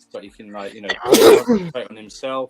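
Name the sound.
sneeze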